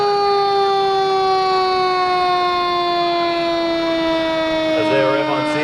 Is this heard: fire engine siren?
yes